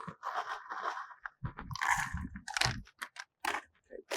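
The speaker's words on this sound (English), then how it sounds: "let's do a handful of corn nuts in one and a handful of Doritos in the other" Handfuls of crunchy corn nuts and Doritos drop into backpacking stove pots, short bursts of close rattling and crinkly crunching separated by brief pauses.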